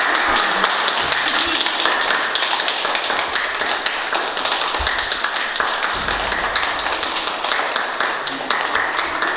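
Children and adults applaud together in a small gathering, a dense, steady patter of hand claps that runs for the whole stretch without breaking, fairly close and even.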